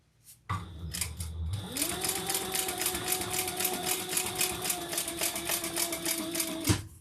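A sewing machine top-stitches a leather crossbody bag, its needle chattering in a steady rapid run for several seconds after a brief start, close and fairly loud, with a sharp stop at the end.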